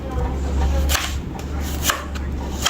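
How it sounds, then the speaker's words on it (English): Knife chopping an onion finely on a board, a quick series of close, sharp taps in an uneven rhythm over a low background hum. "I'm looking to cut this onion up as fine as possible"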